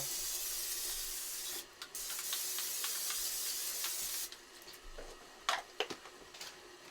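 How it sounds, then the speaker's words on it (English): A long steady hiss of aerosol cooking spray into a pan, then a pause and a second shorter burst, followed by a few light clicks and taps of a can and pan. "spray the bottom of this bigger pan"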